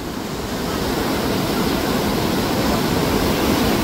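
A strong water current rushes loudly and continuously, a dense, steady roar close by with no talking.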